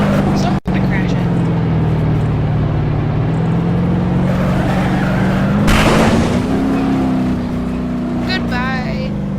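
A car in the driving simulation game BeamNG.Drive drones along with a loud, steady engine tone, then slams into something in a sharp crunching burst. The engine note keeps rising afterward, and a voice briefly speaks near the end.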